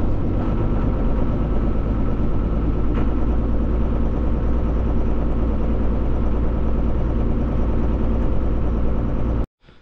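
A manure spreading tractor's engine runs steadily at close range, a continuous low rumbling drone with a mid-range mechanical hum that holds even for nearly ten seconds before cutting off abruptly.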